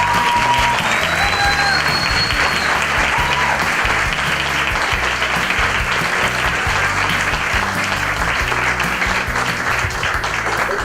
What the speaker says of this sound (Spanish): un grandísimo, por favor, un grandísimo aplauso